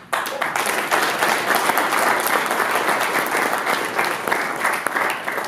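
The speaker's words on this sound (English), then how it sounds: "And for Larry the Axe Hennig, we could clap all day." An audience applauds for the wrestling legend Larry "the Axe" Hennig, a dense, steady wash of many hands clapping at once, loud and sustained without a break.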